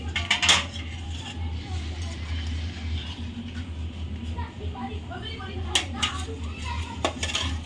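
A lid is set over a pan of potol and prawn curry, with metallic clinks and a couple of sharp clanks over a soft cooking hiss while a voice talks.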